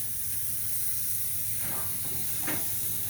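Tomahawk steaks, bones wrapped in foil, sizzle on a grill as a steady broadband hiss, with two brief louder spits and flare-ups rising out of the constant frying noise; no talking.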